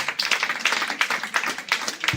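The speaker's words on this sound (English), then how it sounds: "Please, let's give him a better round of applause." Sparse, light clapping from a small audience at a Nigerian cellular pathology society gathering, a few hands tapping in an uneven rhythm, fairly quiet and close.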